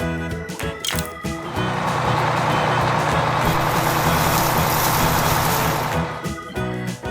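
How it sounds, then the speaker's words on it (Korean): A dump truck engine runs loud and steady, a broad rumbling drone that holds for several seconds before tapering off, with a few clanks at the start and end. "Dump truck."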